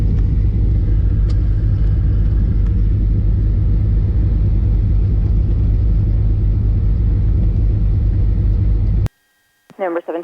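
A Beechcraft Baron taxis out to the runway at Long Beach, its engines giving a loud, steady low rumble for about nine seconds before it cuts off abruptly and a brief radio voice follows.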